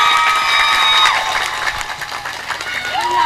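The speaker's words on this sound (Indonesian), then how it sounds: "tepuk tangan dulu" Applause and cheering from the congregation at an Islamic religious lecture during Ramadan, a dense wash of clapping and voices that swells and then eases slightly, with a voice rising over it near the end.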